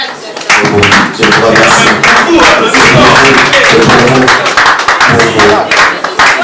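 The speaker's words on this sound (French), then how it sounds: "Est-ce qu'on peut applaudir pour la presse, s'il vous plaît?" An audience applauds the press at a French-language event, dense clapping running loud and steady throughout while someone speaks over it on a microphone.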